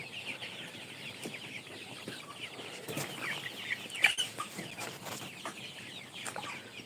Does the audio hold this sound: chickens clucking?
yes